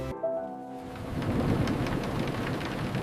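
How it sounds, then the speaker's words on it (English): Rain begins to fall in a children's English-learning cartoon. A brief tone gives way to a steady, hissing patter of rainfall that builds and continues to the end. "Oh no! It is starting to rain."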